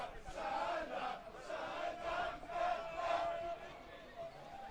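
Football crowd at a Hornchurch versus Eastbourne Borough match roars in surging waves after an on-target shot, a distant, fairly faint swell of voices rising and falling over several seconds.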